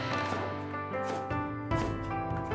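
A knife cutting a peeled potato into roughly one-centimetre strips on a kitchen board, a few distinct close chops over a couple of seconds, with music playing underneath.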